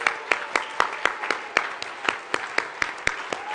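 A small gathering claps for fathers on Father's Day during a Sunday talk, a sparse, steady run of individual hand claps repeating at a moderate pace, fairly close and with no voices over it.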